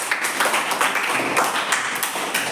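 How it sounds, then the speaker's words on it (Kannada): A classroom of children claps together at the teacher's request, a brisk uneven patter of many small hands lasting a couple of seconds. "ಚಪ್ಪಾಳೆ ತಟ್ರಿ"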